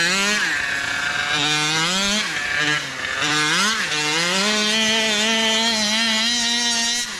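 A 47cc gas engine in a Rovan RC truck, running rich with the throttle set too high, drones loudly and continuously, its buzzing pitch rising and dipping with brief revs over about seven seconds, with no talk.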